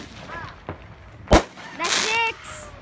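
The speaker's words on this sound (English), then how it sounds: "Oh, there's fireworks." A single sharp firework bang close by at midnight on New Year's, a loud isolated crack standing out over a low background hum, with faint whistling and crackle afterward.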